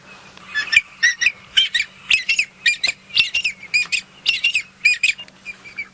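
A series of harsh, squawking bird calls repeated in quick bursts, fairly loud and close, with a faint low hum underneath.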